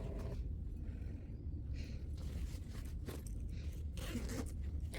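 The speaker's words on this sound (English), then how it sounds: "what I love is the zipper that keeps everything inside" An insulated beach bag's zipper is pulled in short rasping strokes close by, a few quick scratchy runs over a dull background rumble with no talking.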